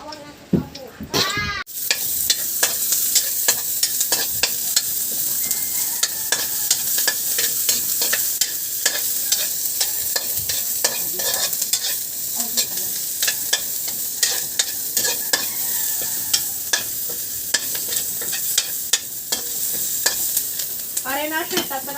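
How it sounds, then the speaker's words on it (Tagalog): Gisa-style sautéing in a pan gives a loud, sustained sizzle with constant crackles and spatter, plus frequent sharp clicks from stirring that run without a break. "Gigisa na natin, mga pre."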